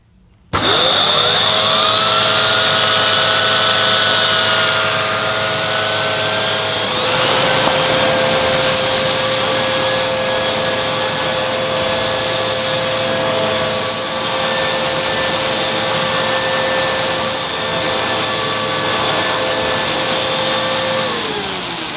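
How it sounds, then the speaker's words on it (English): A Hoover Reactiv vacuum cleaner with a mini turbo head picking up dirt starts abruptly and runs loud and steady, its high motor whine settling to a slightly lower pitch, with no talking. "We'll just pick up the muck that I've just emptied out the machine using this mini turbo head."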